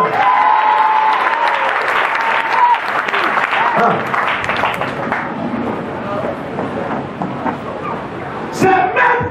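A church congregation bursting into loud sustained applause and cheering for the Lord, a dense wash of clapping and shouts that slowly thins, with voices calling out over it.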